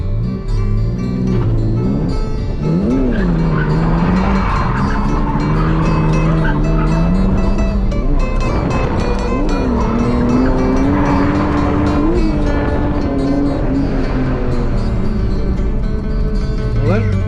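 A car drifting on a city street at night, its engine revving up and down in waves under continuous tire squeal and skidding, loud and close throughout.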